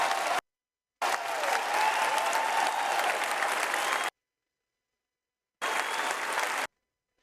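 Party conference audience applauding at the close of Keir Starmer's speech, dense sustained clapping from a large hall heard in two chopped bursts separated by abrupt silences.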